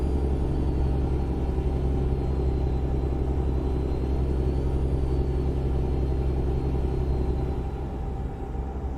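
Kenworth T600 truck engine cruising in 13th gear in American Truck Simulator, a steady loud low rumble that holds constant throughout and eases slightly near the end.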